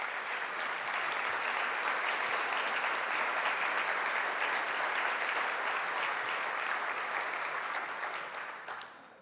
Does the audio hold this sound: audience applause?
yes